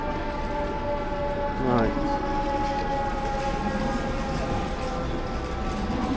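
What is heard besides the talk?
fire engine and ambulance sirens in Times Square at night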